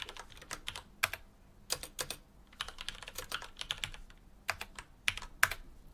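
Code is typed on a computer keyboard in quick, irregular bursts of crisp key clicks with short pauses between runs, close and fairly quiet.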